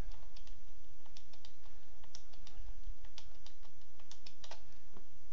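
Scattered computer keyboard keystrokes while editing spreadsheet cells, a series of crisp, close clicks at an irregular pace over a quiet room background.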